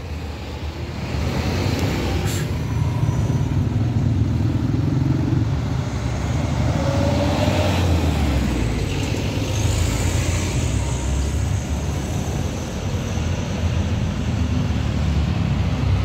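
A Sinar Jaya coach bus on the Wonosobo–Merak route passes along the road, a loud, sustained engine and tyre roar over continuous traffic noise that swells and fades across the whole stretch.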